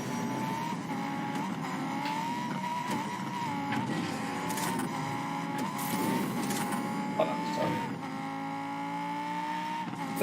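Steady engine roar from a Superman car in a Hot Wheels Unleashed racing video game, with revving pitch changes and a brief tire screech, continuous and loud throughout.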